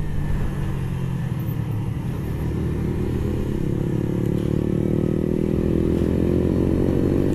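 A 125cc motorcycle is ridden close by, its engine holding a steady buzzing drone that slowly rises in pitch as it gathers speed, loud and continuous with no talk.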